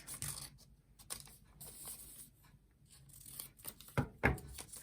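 Scissors snipping paper into strips, close and quiet, several sharp cuts and rustles separated by near silence, with two stronger snips near the end.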